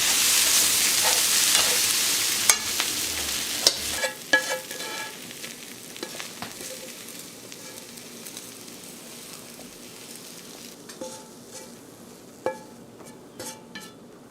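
Noodles are tossed and stirred with long chopsticks in a sizzling pan, giving a soft hiss of frying under scattered light scrapes and taps of wood against the pan, close and fairly quiet.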